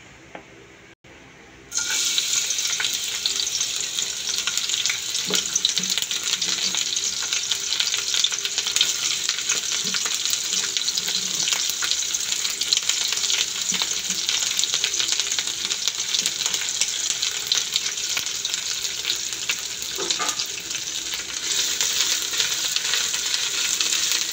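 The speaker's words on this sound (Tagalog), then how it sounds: "Iprito po na natin yung dilis." Dried anchovies fry in a little oil, a continuous loud sizzle that starts abruptly after a brief quiet moment and carries on steadily with occasional stirring scrapes.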